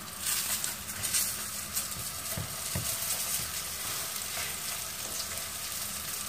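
Meat-filled yeast börek fries in a pan with little oil, a soft steady sizzle and crackle with a few light taps, close and quiet with no talking.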